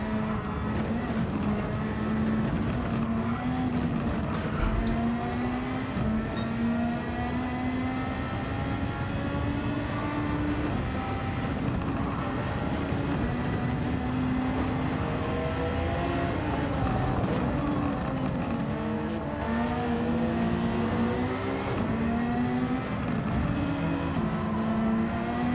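A race car engine in Gran Turismo 7 roars continuously at high revs, pitch climbing and dropping with gear shifts, loud and sustained with no pauses or voices.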